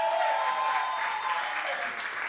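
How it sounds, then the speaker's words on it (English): An audience at an awards show applauds, a dense, steady wash of clapping that runs the whole time and eases slightly near the end. "Let's give a claps for Andrea Battersby who designed them."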